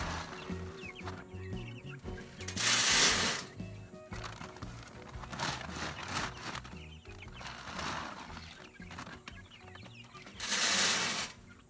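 Young chicks out on clover-rich grass in a backyard, with steady soft cheeping and clucking close by, several louder bursts of calling standing out over a busy low rustle.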